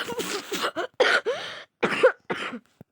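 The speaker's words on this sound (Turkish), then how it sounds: "Onun için öksürdüm." A rapid series of raspy coughs and throat-clearing bursts, close to the mic, uneven in rhythm with short gaps.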